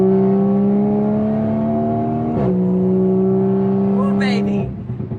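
Car engine cruising at 70 mph as the driver gets on the throttle: a steady, loud droning hum that dips and rises in pitch, then the engine note shifts and fades toward the end.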